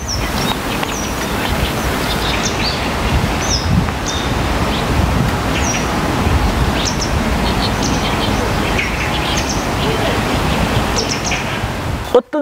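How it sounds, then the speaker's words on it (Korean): Sparrows chirp in short, scattered bursts over a steady breathy wind and rustle of leaves in a forest, with no nearby voices. "새소리 2개. 새소리 2개. 네. 참새소리."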